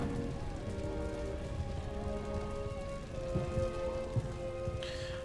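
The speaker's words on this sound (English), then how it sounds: "Okay, it is raining, which is not ideal." Steady rain hissing across a battlefield in Empire: Total War, a continuous even wash of falling water with a low game rumble beneath and a brief brighter patch near the end, no voices heard.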